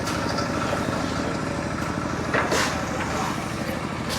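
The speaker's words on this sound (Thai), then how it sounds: "รถไถเต็มเลย" A two-wheel walking tractor engine runs steadily near a rural school construction site in Laos, with a dense low chugging drone continuing throughout and a brief louder burst midway.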